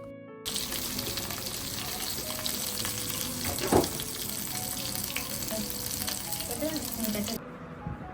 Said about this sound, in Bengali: তো এই যে এখন আস্তে আস্তে করে ভেজে নেব অল্প অল্প তেলে